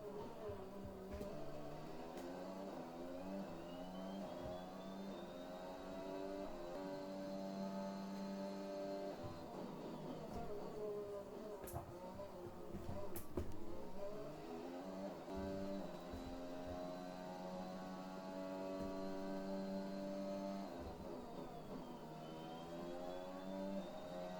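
A Formula 1 racing car engine in a video game at the Austrian Grand Prix, a steady high-pitched whine with climbing and falling tones as it shifts through gears, loud and continuous throughout, with faint speech in the background.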